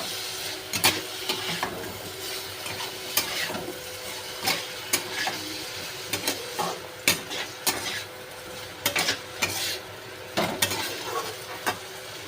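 Fish roe masala stirred in a pan with turmeric and a little water, a spoon scraping and clinking against the metal in irregular close strokes over a steady soft sizzle.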